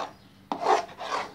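Kollam-style orappam batter is stirred in oil in a pan: after a brief quiet moment, two rough scraping strokes of a spoon drag across the pan's surface, close and moderately loud.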